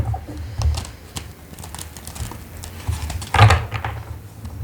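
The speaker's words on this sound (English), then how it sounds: "now as I shuffle this deck," A tarot card deck being shuffled close up, with soft irregular riffles and taps of cards and a louder burst of shuffling near the end, with no talking.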